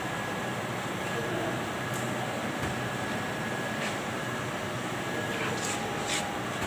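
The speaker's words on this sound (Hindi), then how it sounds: "PVC में सबसे अहम रोल जो है वो डीगैसिंग यूनिट का। ये आप देख रहे हैं डीगैसिंग यूनिट।" A PVC pipe extrusion line's degassing unit with its vacuum tank runs in a factory, giving a constant loud mechanical hum and airy hiss with a faint steady whine and occasional clicks.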